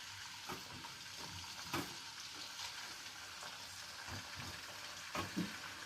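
Chicken pieces go into a karahi holding a litre of cold oil for Peshawari-style charsi karahi, giving a low, steady sizzle with scattered scraping and stirring clatters close by.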